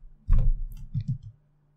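A few quick keystrokes on a computer keyboard, close up and fairly soft: a short burst of clicks and dull taps lasting about a second, then silence.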